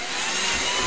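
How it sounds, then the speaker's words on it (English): A power drill whirs steadily as it bores a hole through a plastic bottle lid, a close, continuous high-pitched mechanical whine lasting about a second. "Next thing I do is I drill a hole in the lid."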